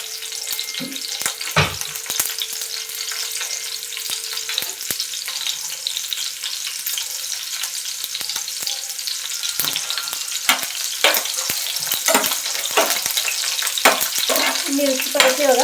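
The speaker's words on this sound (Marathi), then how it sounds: "तेल गरम झालं की पहिल्यांदा मिरची घालणार मी" Green chilies fry in hot oil, a continuous loud sizzle and spatter with intermittent stirring scrapes, close up and with no talk.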